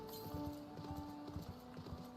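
Horse mount in Final Fantasy XIV clip-clopping along in a steady, quick hoofbeat rhythm, faint and even against a soft background of game music, no talk.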